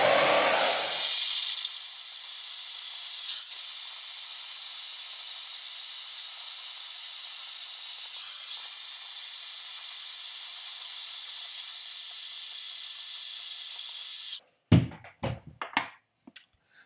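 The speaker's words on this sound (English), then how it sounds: "on a high heat and high speed, we're going to wrap dry our hair" A hair dryer blasts a loud, steady rush of hot air on high heat and high speed for wrap drying hair, cutting off abruptly near the end, followed by a few brief clattering knocks.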